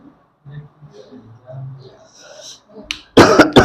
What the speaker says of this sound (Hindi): खांसी हो रहा है यार